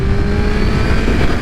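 Honda CBR motorcycle engine held at high RPM, a loud, steady, buzzing drone with no talking.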